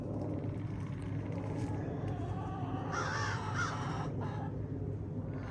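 Crows caw in a backyard food forest, two or three harsh calls in a row from nearby over a steady low traffic rumble.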